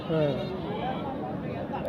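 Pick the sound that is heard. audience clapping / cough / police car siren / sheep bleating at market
sheep bleating at market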